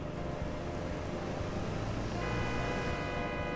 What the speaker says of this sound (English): Okay, stop honking at me.